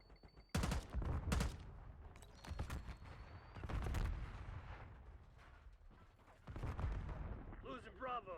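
Gunfire in a video game shooter: bursts of loud, sharp shots and rattling volleys come in clusters with short lulls between them, mixed with game effects, while a voice talks over the action.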